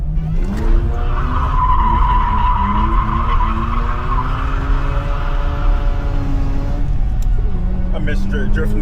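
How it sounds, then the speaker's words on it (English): A Mazda RX-8 engine roars under sustained tire squeal as it drifts on a track, rising in pitch, loud and close, with faint talk underneath. "I miss drifting this car."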